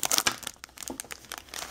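A Pokemon TCG booster pack wrapper from a Gengar EX box is ripped open by hand, giving close, dry crinkling and crackling in quick bursts for under two seconds.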